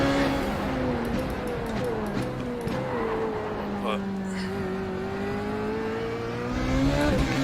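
A Formula Renault 3.5 race car in iRacing, its engine droning steadily and shifting pitch through gears and corners, with someone talking over it the whole time.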